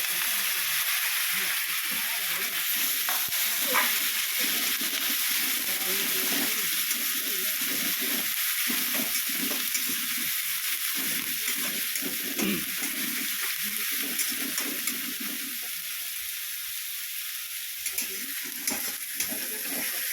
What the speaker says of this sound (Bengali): একটু ভালো করে ভেজে নিই